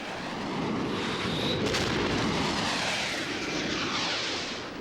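Fighter aircraft strike Egyptian airfields, giving a dense, loud roar of jet engines and blasts that swells and holds throughout, with a sharp crack near the middle and no voices.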